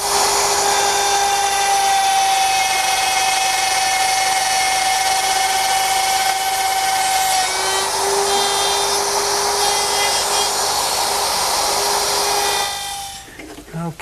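Router cutting dovetail tails in a jig, a loud sustained high whine with a slight pitch drop midway as the bit moves through the wood, ending abruptly as the motor cuts off near the end.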